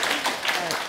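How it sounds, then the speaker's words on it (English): A seminar audience claps after a talk on the language of food, giving a steady, dense round of applause that fills the whole moment at moderate loudness. "give her another round of applause, please"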